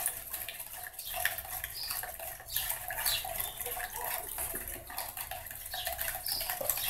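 Borax is stirred to dissolve it in water for homemade liquid laundry soap, giving a steady, faint swishing and sloshing with light clinks throughout.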